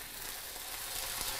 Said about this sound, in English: Hit it with some water and see how you get those little bubbles like that.